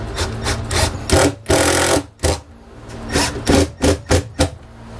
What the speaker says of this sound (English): Since we're going into wood, I'm just going to use regular wood screws